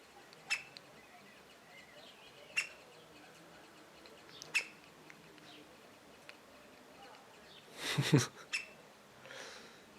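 An agitated parent woodpecker calls near its nest in a tree, giving sharp isolated calls at regular intervals of about two seconds, faint against an outdoor background, with a louder, rougher burst near the end.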